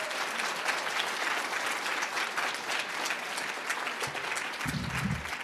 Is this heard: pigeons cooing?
no